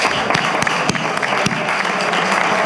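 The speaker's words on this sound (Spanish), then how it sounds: "Un aplauso, por favor" An audience at an indoor forum on Doma Vaquera horsemanship applauds steadily, a dense wash of many hands clapping with a few sharper individual claps standing out.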